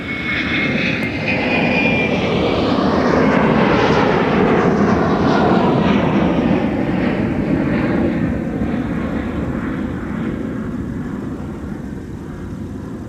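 Airplane on takeoff roll from runway 30 right at MSP airport, a loud, sustained engine roar that builds and then slowly recedes with a sweeping, shifting tone as the aircraft climbs away.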